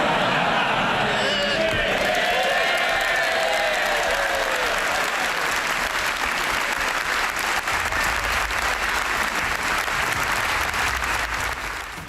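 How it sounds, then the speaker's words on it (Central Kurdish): Members of parliament applaud a speech marking David Cameron's resignation, sustained dense clapping filling the chamber steadily for twelve seconds with a faint murmur of voices beneath. "بە بۆنەی وازهێنانی دەیڤید کامێرۆن لەلایەن پەرلەمانتارانەوە بە چەپڵە ڕێزان بەڕێکرا."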